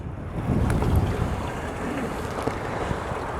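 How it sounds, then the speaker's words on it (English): Wind blows across an outdoor allotment, buffeting the microphone with loud low rumbling gusts that stay steady throughout. "the wind's going to play havoc with it"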